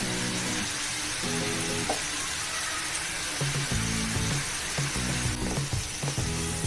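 Butter garlic prawns fry on a high flame with steady, close sizzling and crackling throughout, and occasional clinks of a utensil are heard alongside.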